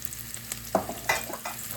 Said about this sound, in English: I'm going to cook it right here in the frying pan.